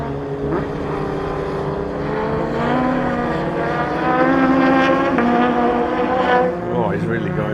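A Ford Anglia race car at a Lydden Hill Custom Cup meeting drones past on the track, its engine note rising and falling continuously over loud surrounding circuit noise.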